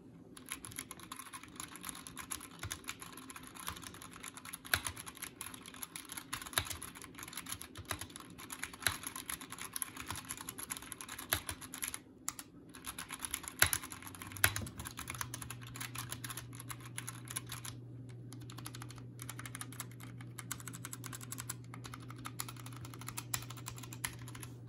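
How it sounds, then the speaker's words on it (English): Continuous typing on a GMMK Compact mechanical keyboard with customizable switches, a dense run of close, clicky keystrokes. No one speaks over it, and a low steady hum enters partway through. "I'm going to move on to showing you a clip of how the switches sound"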